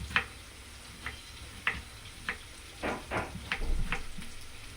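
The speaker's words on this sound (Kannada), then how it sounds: "ಈಗ ಆನಿಯನ್ ಚೆನ್ನಾಗಿ ಫ್ರೈ ಆಗಿದೆ." Onion frying in oil in a pan, a quiet low sizzle broken by a series of sharp crackling pops and ticks spaced irregularly about once a second, growing busier toward the end.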